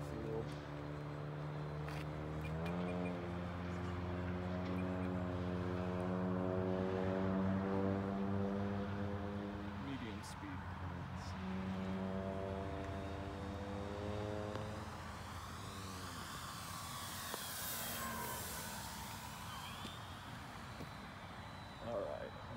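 An FMS Tigercat RC model airplane makes a pass over a field, its steady engine drone rising and then falling away with a Doppler-like sweep toward the end.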